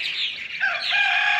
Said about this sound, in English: bear with the martins there, because they ain't going to hush up, and the rooster ain't going to hush up neither